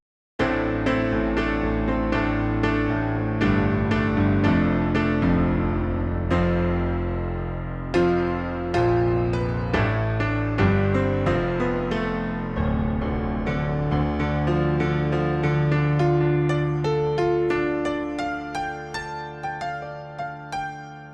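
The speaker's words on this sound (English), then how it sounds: "And what you're hearing there is just the raw piano." A plain synthesized piano from the Power 14SG in Reason plays a steady run of chords and notes with sustained, dry tones, fading slightly toward the end.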